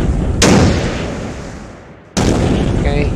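Two heavy booms from a tank cannon in a tank simulator video game, each firing loud and sudden with a decaying rumble, about two seconds apart.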